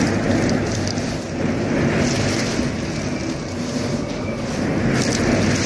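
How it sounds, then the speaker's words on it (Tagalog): Heavy typhoon rain and wind lashing Legazpi during Typhoon Uwan, a loud, dense, unbroken roar of downpour that holds for the whole stretch, with no voices. "Lumakas na rin po yung yung bagsak ng ulan, mga kababayan."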